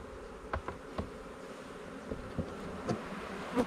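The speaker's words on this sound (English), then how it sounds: "Get the rest of the bees in here." Honey bees buzzing around hives as nucs are installed, a steady close insect drone with a few sharp bumps and knocks from the boxes.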